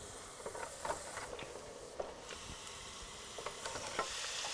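Shredded bird's nests fry in hot oil, a soft continuous sizzle broken by small crackles and bubbling pops, close by and fairly quiet.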